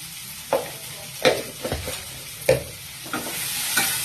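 Spices fry in a pan as turmeric and salt are stirred in, a constant sizzle broken by several distinct scraping strokes of the spoon at an uneven pace, close and fairly loud, with no talking.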